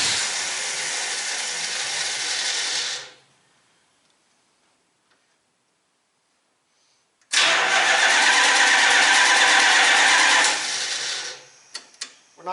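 A car engine fitted with a Holley Sniper EFI cranks hard in two long bursts, a whirring starter grind broken by several seconds of silence, with a few faint clicks trailing the second attempt.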